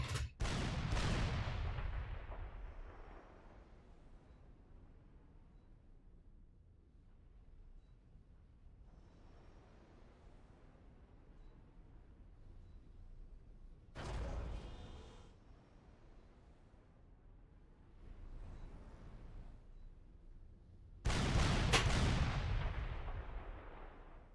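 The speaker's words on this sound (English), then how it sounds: "They are just bloody missiles." Missile launchers fire in the real-time strategy game Supreme Commander with heavy, booming blasts: a loud opening burst, rumbling echoes, and two more sharp, powerful launches later on.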